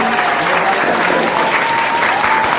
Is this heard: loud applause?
yes